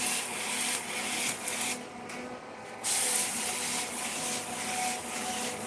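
Vision Ultra Best 990 hydraulic putty sprayer machine spraying putty, a steady close hiss and motor drone that dips briefly in the middle, with no talking.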